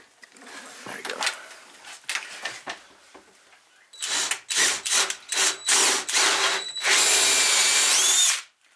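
Power drill boring holes for RV drawer pushlocks, repeated short whirring bursts that grow longer and louder, ending in one sustained high-pitched grind, with brief talk between the early bursts.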